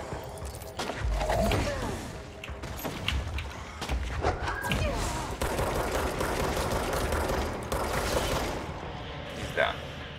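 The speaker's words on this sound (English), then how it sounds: "So you are the one who's shooting." Gunfire in the video game Control rattles in loud, sustained bursts mixed with thuds and impacts, a busy firefight that carries on throughout.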